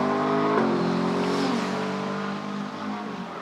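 A Ferrari GT race car runs on the Barcelona circuit in GT Cup Open Europe qualifying, its steady engine roar rising then easing as it crosses the line to start another lap, with no voice over it.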